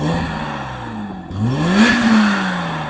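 A BMW M5 engine revs up, its pitch sliding down, dipping briefly, then sweeping up again into a loud rising howl that eases back, heard close with no talk.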